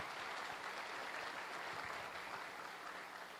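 An audience in a hall breaks into dense, sustained applause for teachers on Teachers' Day. The clapping is loud, steady and continuous throughout, with no talk over it.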